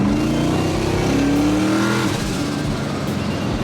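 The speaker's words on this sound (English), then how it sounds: "I know you can hear them turbo noises." An LS-swapped turbo Foxbody Mustang drag car revs hard from inside the cabin, a loud roaring engine with a rising, whistling turbo whine that fades as the throttle eases.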